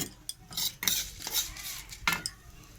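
Black cumin seeds frying in hot oil in a pan, with a utensil stirring and scraping against the metal in short bursts and a soft sizzle underneath.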